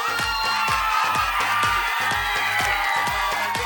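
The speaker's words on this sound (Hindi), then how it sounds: "वहां से मुझे चीखिया नहीं चाहिए भाइयों की साइड से शोर आना चाहिए" Game show studio audience cheering and shouting at a steady, loud level, dense crowd noise with rhythmic beats throughout and no clear individual voices.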